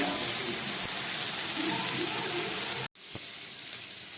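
Fried shrimp tossed into a pan of cooking taro greens, giving a steady, close, loud sizzle that continues throughout, broken by a momentary cutout near the end.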